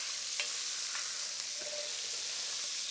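Blackened smoked sausage fries in a pan for Cajun jambalaya, giving a steady, close sizzling hiss with a few scattered pops and crackles throughout.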